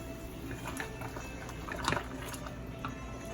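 Beaten egg mixture poured into a pot of simmering homemade wonton soup, a quiet liquid trickle and bubbling with one slightly louder splash near the middle.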